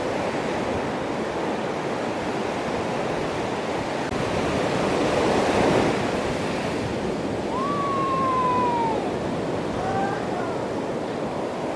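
Sea waves crash continuously on the shore at Devi's beach near Visakhapatnam, a dense, loud surf roar mixed with wind, swelling midway, with a faint whistle-like sound near the end.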